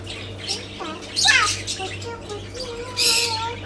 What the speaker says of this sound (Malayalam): ഇതാണ് തത്ത.